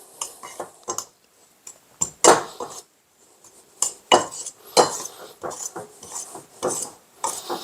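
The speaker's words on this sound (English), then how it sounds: "So we'll give it a little mix." Scone ingredients mixed in a bowl with a spoon or utensil, giving intermittent scraping and clinking bursts against the bowl, close and fairly loud, separated by brief pauses.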